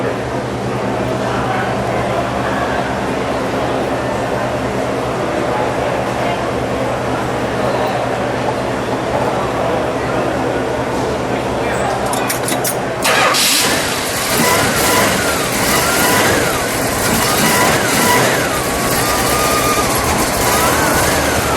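A 1968 Plymouth GTX's 426 Hemi V8 idles with a low steady drone, then cranks and catches partway through, its rumble swelling into a louder, rougher V8 roar.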